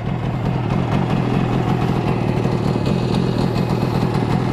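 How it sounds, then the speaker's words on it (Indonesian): An old cruiser-type motorcycle idles close by, its engine a steady, loud low rumble with a slightly uneven clattering pulse and no talk over it. "Ini motor kolot tipe cruiser."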